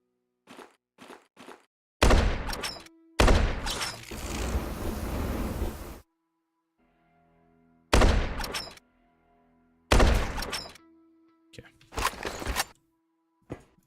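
Turret gunfire in the video game Quasimorph, several loud sharp bursts of shots separated by silences, with mechanical clanks and a thumping impact between volleys.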